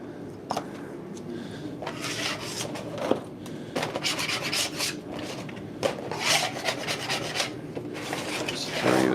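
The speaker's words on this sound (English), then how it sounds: "I'm gonna scrape this guy off real quick" Scraping on a handcrafted wooden skateboard deck: a run of uneven, rasping strokes in close bursts, some short and sharp, others drawn out, repeating steadily throughout.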